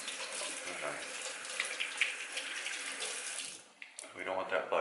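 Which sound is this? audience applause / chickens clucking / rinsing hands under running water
rinsing hands under running water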